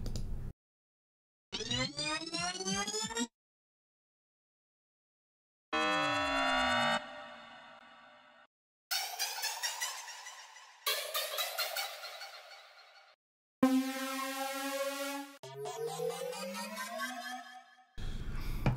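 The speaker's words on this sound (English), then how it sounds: "you're gonna have all of these different options for risers, okay? These are transitional effects that come included in Logic Pro 10." A series of riser transition effects from Logic Pro X played one after another, synthetic sweeping tones rising and falling in pitch, each a few seconds long and separated by silences, no talking.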